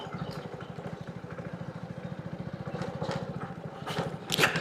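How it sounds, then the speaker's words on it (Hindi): A motorcycle engine, ridden as a bike taxi, runs steadily with a fast, even low thump, close and moderately loud, with some clatter and a brief louder burst near the end. "दोनों एक ही बाइक पे फिर बाइक पे बैठ कर निकल लेंगे सीधा घर।"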